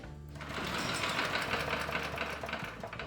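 Small pull-start engine with a newly replaced primer bulb cranking and sputtering, a rapid, steady mechanical chatter heard close up and continuing for a few seconds without any talk.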